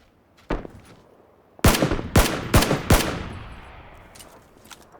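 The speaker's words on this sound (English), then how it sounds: "somebody's got a big gun" Gunfire in PlayerUnknown's Battlegrounds, a single shot followed by a burst of four loud, booming rounds with echoing tails.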